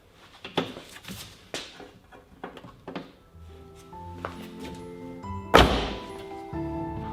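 A series of clunks, knocks and thuds as a car door panel is handled and fitted on a BMW Z3M being rebuilt, ending with one heavy thump.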